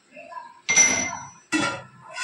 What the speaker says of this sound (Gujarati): હવે આપણે હલાવી લઈશું.